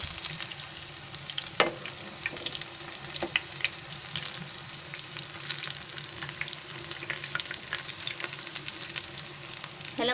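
Big green chilies fry two at a time in hot oil, producing a continuous close sizzle dotted with frequent crackles and sharp pops, fairly even in loudness, without speech.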